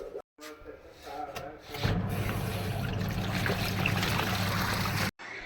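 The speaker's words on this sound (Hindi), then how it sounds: "थोड़े बहुत कपड़े जो है एक बार के वो चलाने भी है मशीन में मुझे, तो वो भी चला देती हूँ थोड़ा पानी डाल के" Water pours into a washing machine loaded with clothes, a steady rushing stream starting after a few seconds of handling noises and continuing close and even until cut off.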